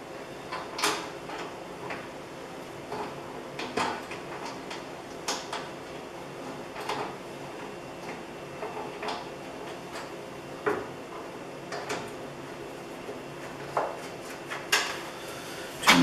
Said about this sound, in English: Two little bolts. Tighten those up.